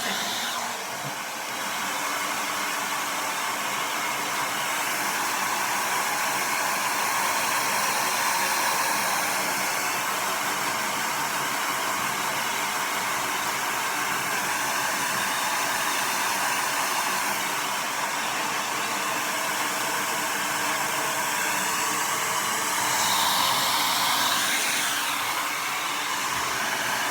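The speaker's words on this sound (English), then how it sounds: "So I'm going to finish blow drying my hair" A blow dryer runs at full power drying hair, a loud, constant whooshing whir lasting the whole stretch with only slight shifts as it moves, and no talking.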